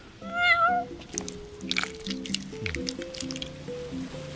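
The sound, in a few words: cat meowing, from the video game Final Fantasy XV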